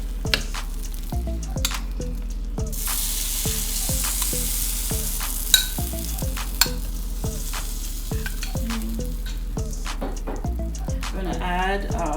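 Crushed pineapple sizzles in a pan on a burner while an upside-down pineapple cake is being made, a steady close frying hiss with regular soft ticks and a brief voice near the end.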